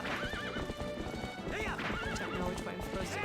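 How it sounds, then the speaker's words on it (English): Horse hooves clip-clopping at a gallop with repeated shrill neighs and whinnies in the game Zelda Twilight Princess, the rhythmic hoofbeats running under quick whinnies throughout. "Ride my horse around at top speeds and be incapable of steering in a straight line."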